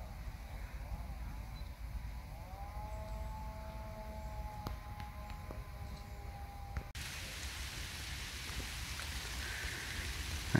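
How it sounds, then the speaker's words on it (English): Steady rain shower falling at a lake during a carp fishing session, a constant hiss that grows denser and brighter partway through, with a faint steady tone in the background. "Actually in the middle of a rain shower now"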